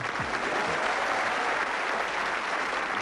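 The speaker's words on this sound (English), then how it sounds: "You're clapping them" A studio audience at a 1985 television game show claps steadily and loudly, a dense continuous wash of applause holding evenly throughout without pause.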